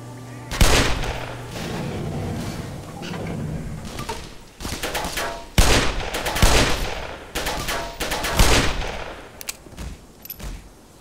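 Heavy magnum revolver shots in Black Mesa crack out one by one, sharp loud reports spaced a second or two apart, with a short cluster near the end over quieter game ambience.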